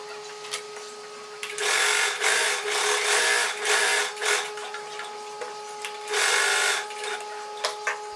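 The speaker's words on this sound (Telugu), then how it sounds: "నేను చుట్టూరా కూడా దాని మీదే ఒక స్టిచ్ అనేది వేసేస్తున్నాను" A sewing machine stitching a blouse runs close and loud in repeated bursts of rapid mechanical chatter, separated by short pauses and lighter clicks.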